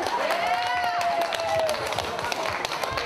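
Wedding guests applauding the best man, Alec, as he steps up for the champagne toast: a dense burst of clapping with a whistle and voices mixed in.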